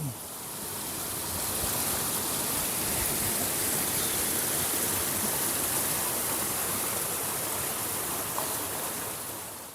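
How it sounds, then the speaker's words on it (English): Woodland stream waterfalls in the UK make a constant broadband rushing roar, steady and fairly loud throughout, with no talk over it. "we can appreciate the wonderful waterfalls without getting our feet wet."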